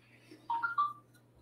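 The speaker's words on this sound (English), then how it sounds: "I think I just got a notification that I'm going live" A phone notification chime rings out during a model-building session: a short, clear run of two or three bright electronic tones lasting about half a second, close and distinct over a quiet room hum.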